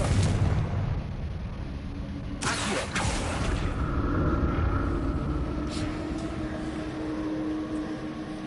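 A Confringo blasting spell explodes in the video game Hogwarts Legacy, a loud burst followed by a fading rumble under steady background game noise.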